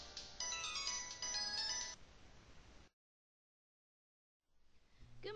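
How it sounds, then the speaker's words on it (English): A cell phone ringtone chimes on a bedside table in bursts, goes silent for a moment, then starts ringing again. "The cell phone was actually ringing."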